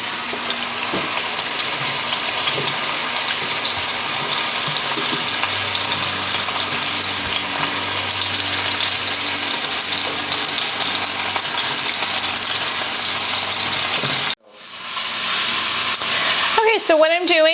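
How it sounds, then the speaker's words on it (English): A bone-in leg of lamb roast browning in a hot pan on the stove, giving a loud, continuous sizzle and crackle that cuts off abruptly near the end, followed by brief clattering and a faint voice. "I'm going to walk on over now to the stove and I'm going to brown the roast"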